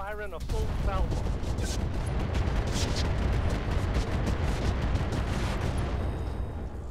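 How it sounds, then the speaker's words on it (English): A voice is heard briefly, then a full weapons salvo fires in the mech video game Roguetech. A dense, loud barrage of overlapping shots and blasts rolls on without pause for several seconds. "Firing a full salvo."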